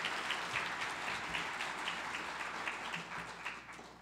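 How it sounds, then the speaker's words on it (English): An audience at a debate on guns applauds the speakers. Dense, even clapping carries on for several seconds at moderate distance and fades slightly toward the end. "how about a round of applause for both our speakers here who gave us a very civil and thoughtful debate"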